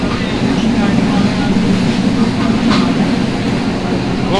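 The Chilahati Express rumbles along in a steady, loud low roar of rolling wheels and carriage noise, continuous throughout with faint voices underneath.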